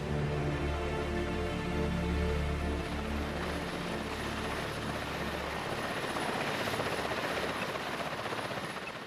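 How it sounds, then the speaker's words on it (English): A helicopter hovers nearby in a snowy wilderness, its steady rotor chop and turbine drone loud and continuous, alone with no voices. "This time, the helicopter provides a distraction"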